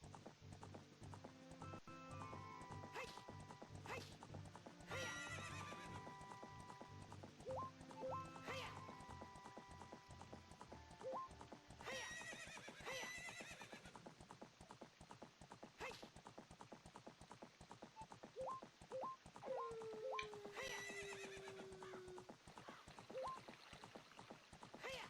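Epona, the horse in a Zelda video game, trots with steady clip-clop hoofbeats, mixed with game chimes and effects and a short descending tone, and no one talks.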